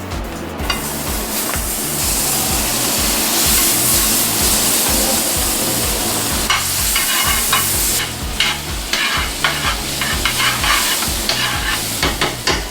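Country Crock butter sizzles loudly in a pan on high heat during chicken meatloaf cooking, a continuous bright hiss with stirring scrapes, then crackling spatters that grow choppier toward the end.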